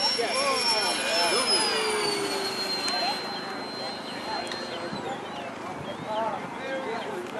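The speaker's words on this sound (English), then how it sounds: "We will see some kerosene or Jet A jet." A kerosene turbine-powered model jet passes at an aeromodeling fly-in. Its loud, high whine slides steadily lower as it flies by, with people talking over the roar.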